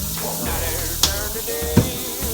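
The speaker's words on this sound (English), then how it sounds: "Give it a nice little sear there" Salt-and-pepper seasoned chicken sears in a hot pan with a steady low hiss, broken by a couple of sharp clicks, close by and fairly quiet.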